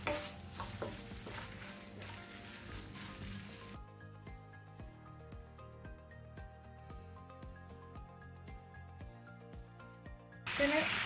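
Chicken frying in a pan with spice powders gives a crackling sizzle with stirring scrapes at the start, then background music takes over before the sizzle returns briefly at the end.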